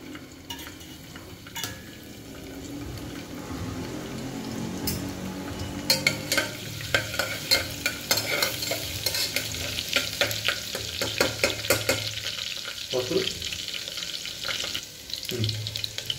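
Ginger garlic paste frying in hot oil in a home kitchen pan, a continuous sizzle with repeated sharp scraping and stirring clatter from a utensil against the pan.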